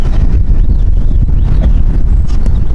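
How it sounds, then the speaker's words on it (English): Steady, loud wind buffeting the microphone, a continuous low rumble with gusty fluctuations and no voices. "it's getting a little windy out here"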